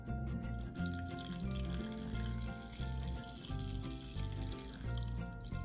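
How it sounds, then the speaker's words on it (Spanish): Jalapeño pepper juice is poured into tuna salad, a steady, close liquid stream that splashes and gurgles in pulses throughout, with no talking. "Aquí es donde le incluyo yo lo que viene siendo el jugo de chile jalapeño."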